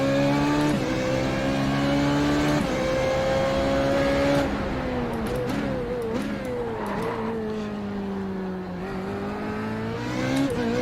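Formula Renault 3.5 race car engine in the racing sim iRacing, a loud continuous high-revving whine that climbs through the gears, dips under braking and rises again, heard from the cockpit without talk.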